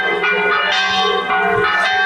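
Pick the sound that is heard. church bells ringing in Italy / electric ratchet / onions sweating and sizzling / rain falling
church bells ringing in Italy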